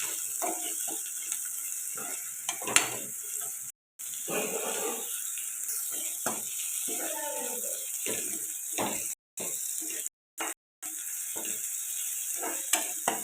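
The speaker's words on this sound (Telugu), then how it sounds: "ఇది కూడా పచ్చివాసన పోయేదాకా ఫ్రై చేసుకుందాం" Onions and ginger-garlic paste fry in a pan as a chicken curry is cooked, giving a steady sizzling hiss with soft scraping stirs throughout, broken by a few brief silent gaps.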